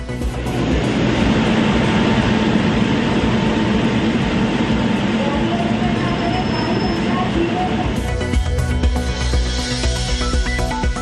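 A loud, continuous rumble of the Bundelkhand Express departing Jhansi close by, steady throughout with a rattling shift near the end.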